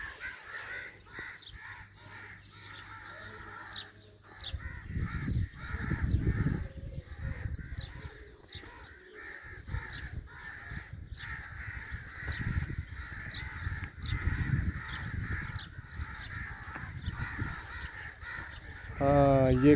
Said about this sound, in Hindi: हाँ, ये कौवे हैं।